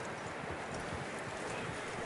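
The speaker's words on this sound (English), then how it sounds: "That looks like a decent horse." Horse hooves clip-clop steadily over ground in the Red Dead Redemption 2 video game, a close, even rhythm of footfalls with faint rustling and no talk.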